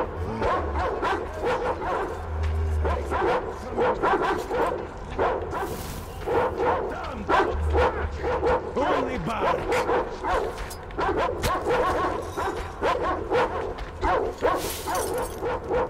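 Two dogs in a video game bark and yip in repeated bursts through a busy in-game soundscape, loud and close, with some whimpering between barks.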